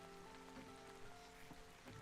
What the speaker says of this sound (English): It makes me want to watch the rain from the retreat of my room.